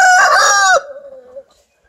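A Sussex rooster crows once up close, a loud harmonic call that trails off into a fading tail before silence.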